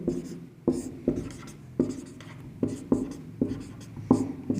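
Chalk or marker writing on a board during a Hindi-language science lesson for sixth-grade students, with a rhythmic series of short taps and scrapes at close range and no talk over it.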